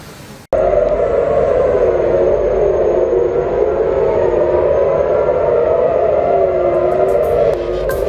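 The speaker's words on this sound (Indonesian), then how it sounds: "Suara sirene pun bergaung di seluruh penjuru kota Tel Aviv." A loud air raid siren wails steadily after a brief quiet start, its sustained tone droning continuously over Tel Aviv during a Houthi ballistic missile attack.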